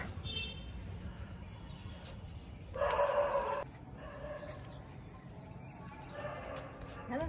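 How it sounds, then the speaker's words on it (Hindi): A golden retriever barks faintly at a distance in one short burst against a quiet, murmuring background. "क्या डॉगी को सुन रहे हो?"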